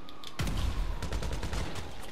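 Video game gunfire in GTA V, a sharp onset followed by a rapid burst of shots rattling on for about two seconds, fairly quiet overall.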